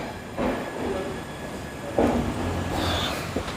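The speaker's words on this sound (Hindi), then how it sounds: "तो ट्रेन हमारी चल चुकी है खड़गपुर जंक्शन से।" The Kriya Yoga Express, a passenger train, runs on after leaving Kharagpur Junction, heard from inside as a steady rolling rumble with recurring rail-joint thumps and faint squeals, no voices.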